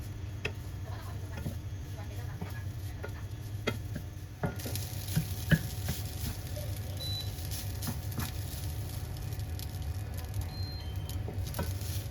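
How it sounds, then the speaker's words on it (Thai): Rice with shrimp paste chili sauce is stir-fried without oil in a pan, giving a steady close sizzle with irregular clicks and scrapes from the utensil stirring. "เราก็เอาข้าวของเราเนี่ย มาผัดบนกระทะได้เลย ผัดโดยที่ไม่ต้องใส่น้ำมันเลยนะคะ"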